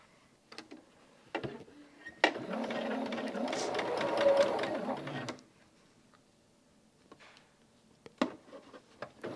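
A sewing machine stitches rows of a quilt together, running steadily for about three seconds as one close, continuous whirring burst, with quiet handling sounds before and after.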